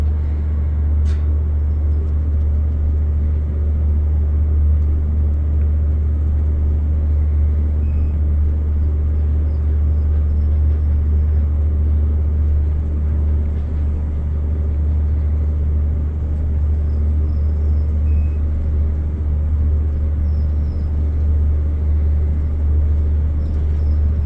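A 1969 Westinghouse traction elevator hums with a deep, steady rumble throughout a long, smooth ride, a continuous close machine drone with no talk.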